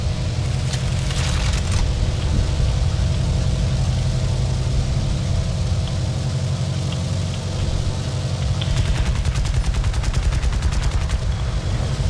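Rapid machine-gun bursts crackle from a War Thunder aircraft battle, two short rattling volleys early and late over a loud, constant engine drone.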